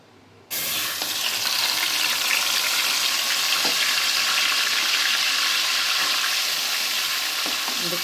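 Onion paste hits hot oil with a sudden loud sizzle after a brief quiet start, then fries in a steady, dense crackle with occasional stirring scrapes, alone without voices.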